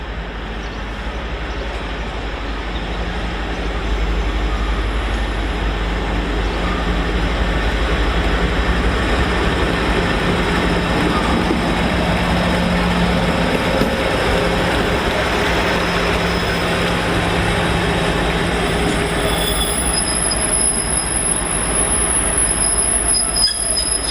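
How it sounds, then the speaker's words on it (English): Locomotive 56090 rolling in at Stafford station on the West Coast Main Line to couple onto the train, wheels squealing loudly and steadily over a deep rumbling engine drone that swells after a few seconds and holds. "56090 is coming in to attach to what was the rear of the train, now the front of the train"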